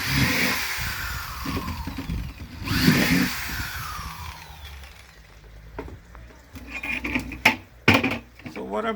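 A power drill boring holes through the bottom of a plastic hydroponic bucket, with bursts of whining motor and grinding that stop and start, then a few sharp knocks and clatters near the end.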